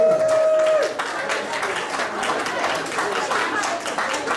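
A crowd at a pop-up music gig applauding, a dense wash of clapping hands that starts after a brief tone and carries on steadily, fairly loud and close.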